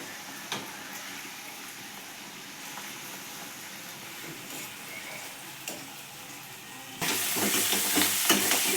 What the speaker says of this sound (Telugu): ఆయిల్ వేడిగా ఉంటే పూరి కూడా మంచిగా పొంగిద్దండి